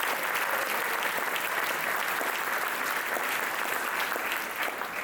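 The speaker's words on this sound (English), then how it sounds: "Let's give them a round of applause." Audience at a Helene anniversary event at UNC Asheville giving sustained, loud applause, a dense continuous roar of many hands clapping that fades slightly at the end.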